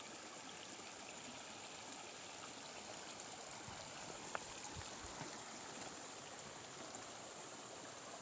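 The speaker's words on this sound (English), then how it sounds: "Bunch of little waterfalls and stuff." Steady broadband rush of running water from a stream with small cascades along the Appalachian Trail, continuous and even, heard from nearby with no voices.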